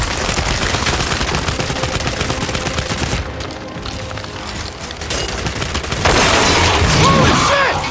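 Gunfire in the video game Gears of War 5, loud rapid bursts and volleys of automatic shots with booming impacts, dropping briefly before a final heavy burst near the end, shouted voices mixed in.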